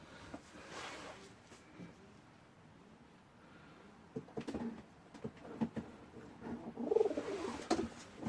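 A pigeon coos softly in a loft on a freezing day, the low calls rising in the last few seconds over faint rustling and scattered taps, with no talk.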